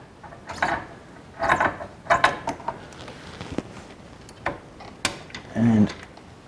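A Torx T40 socket backs a bolt out of the cylinder head area of a 2018 BMW R1200GS Adventure, giving close ratcheting clicks in short bursts between pauses, with some metallic clatter.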